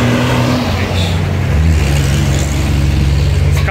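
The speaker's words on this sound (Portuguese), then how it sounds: "Carro barulhento aqui." A noisy car goes past outside, its loud engine rumbling and rising in pitch as it drives by, a close and steady roar with no talking over it.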